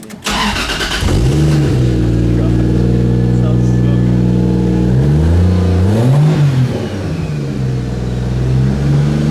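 A 2JZ-swapped Nissan S14 fires up with a sharp crank and catch, then settles into a loud idle and is revved twice in rising and falling sweeps, close and alone.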